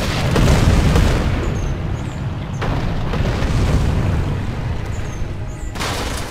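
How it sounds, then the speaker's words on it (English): A shadow bomb in Darksiders II bursting after being shot, a loud booming explosion with a long rumbling roar that carries on, plus a couple of later thuds. "Non-violent shadow bombs must be shot in order to explode."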